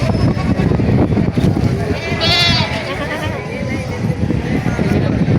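Goats, including bucks, bleat in wavering cries amid a busy outdoor livestock market, with people talking nearby throughout.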